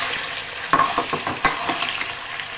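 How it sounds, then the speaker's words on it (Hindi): Salted potato slices fry lightly in oil with a steady close sizzle, broken by a few sharp scraping stirs and clinks of a spoon against the pan; no one speaks. "नमक डाल के आलू को हमने हल्के से ऑयल में फ्राई कर लिया"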